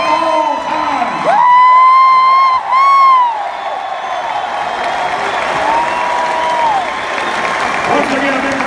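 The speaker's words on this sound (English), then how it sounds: "a big round of applause for one round of points for the member and single season race by OVC assist record holder" A college basketball crowd at a Murray State vs. Austin Peay game claps and cheers for a record holder, loud sustained applause with whoops, and a booming announcer's voice echoes over the noise.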